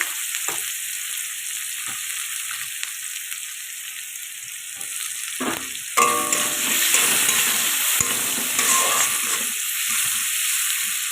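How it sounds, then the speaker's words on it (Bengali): Chopped onions frying in hot mustard oil with cumin seeds and bay leaf, a steady close sizzle that jumps louder about halfway through as the onions hit the oil, with faint stirring scrapes and no talk. "পেঁয়াজটা ভাজা ভাজা হয়ে গেছে"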